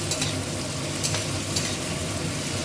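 Spices frying in oil in a pan, a steady close sizzle with soft stirring scrapes running throughout at an even level.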